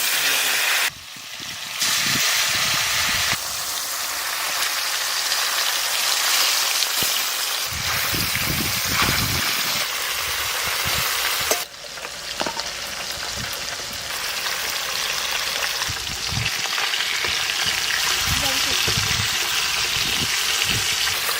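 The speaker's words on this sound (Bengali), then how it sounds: "এবারে মাছগুলো ভাজা করে দেবো" Fish sizzling hard in hot mustard oil in a home kitchen, a loud continuous crackling hiss that runs throughout with brief dips and bursts as pieces shift in the pan.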